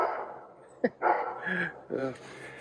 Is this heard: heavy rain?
no